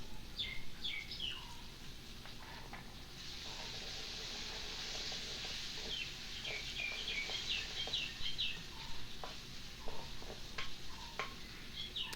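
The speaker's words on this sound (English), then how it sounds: "Continue frying" Faint steady sizzle and crackle of mustard seeds frying in hot oil, with scattered small pops and chirpy high ticks throughout.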